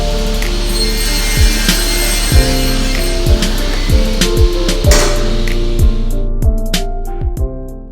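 A saw cuts through a sheet of plywood, loud and close, with a steady grinding drone and a rhythmic series of sharp strokes repeating roughly every half second.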